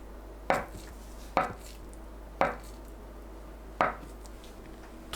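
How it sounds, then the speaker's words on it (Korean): Four crisp, evenly spaced knife strokes cut through a block of tofu into 1 cm slices, each one ending in a sharp tap on the cutting board, close and clear with no talking. "두부 물기를 닦아주세요. (1cm) 두께로 썰어줍니다."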